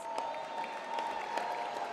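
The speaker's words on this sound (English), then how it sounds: "Oh, we can give a louder applause." A dinner crowd at a football awards banquet claps harder, a dense, sustained burst of applause filling the room, even and fairly loud throughout.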